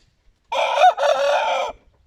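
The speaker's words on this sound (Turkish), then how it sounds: "Ballımızı öterken yakaladık" A rooster crows once, loud and close, a drawn-out cry lasting just over a second with a brief break in the middle.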